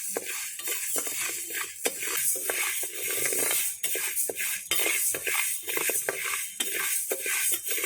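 Grains dry roasting in a pan for a sweet laddu, stirred continuously: a constant dry rustling scrape with rhythmic utensil strokes against the pan, close and steady, with no voices.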